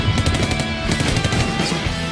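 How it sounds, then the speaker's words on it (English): Rapid bursts of gunfire in the video game Crisis Core crackle through a dense, busy mix, steady and fairly loud for a couple of seconds with no talking. "the screen cuts to black here as we hear gunshots"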